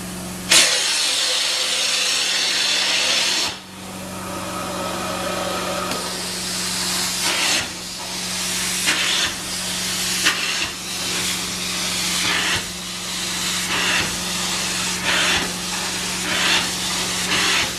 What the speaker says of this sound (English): this unit really gets loud, especially if you've got a good strong truck mount